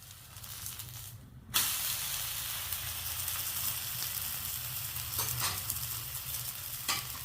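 Three-flour dosa batter hits a hot pan with a sudden loud sizzle after a brief quiet, then fries in a steady, even hiss, with a few soft scraping stirs near the end.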